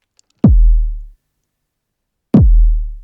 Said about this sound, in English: This is a kick drum with a good amount of body and a long decay phase,